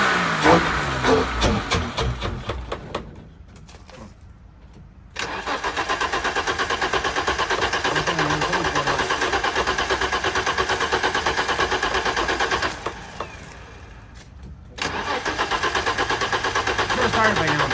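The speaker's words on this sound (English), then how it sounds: "Let me show the starter without it." Starter motor on a BMW E30 325i cranking in two long bursts with a pause between, the engine turning over steadily but not firing, fairly loud and close, with a voice briefly at the start.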